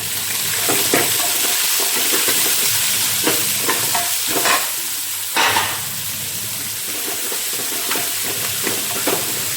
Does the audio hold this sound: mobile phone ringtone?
no